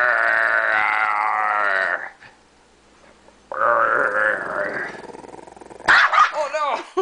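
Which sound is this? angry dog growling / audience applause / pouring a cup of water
angry dog growling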